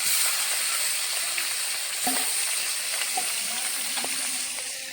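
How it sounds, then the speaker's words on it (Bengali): Hilsa fish pieces frying in mustard oil in a wok, a steady broad sizzling hiss throughout with a few faint clinks, no one talking. "এইখানে মাছ ভাজা হচ্ছে"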